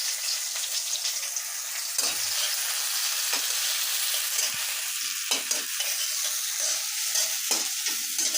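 Onions frying in oil in a pan for aloo dum, a steady broad sizzle that runs the whole time with occasional stirring scrapes and clinks, close and fairly loud.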